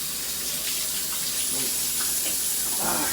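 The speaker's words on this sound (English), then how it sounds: "Let me just wash my hands." Hands are washed under a running kitchen tap while cooking, a steady loud rush of water with small splashes and shifts as the hands move through the stream.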